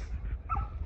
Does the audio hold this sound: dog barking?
yes